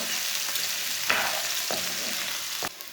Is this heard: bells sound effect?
no